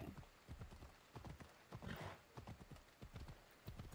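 Horse hooves clip-clop in a video game, a steady run of close, distinct hoofbeats repeating in an even rhythm over a few seconds, with faint game ambience behind them.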